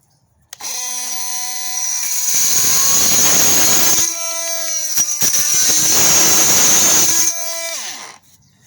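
A Milwaukee Fuel 18V oscillating multi-tool with a carbide blade cuts through a nail. A loud, steady high buzz rises in pitch as the blade bites, with brief dips between bursts, then winds down.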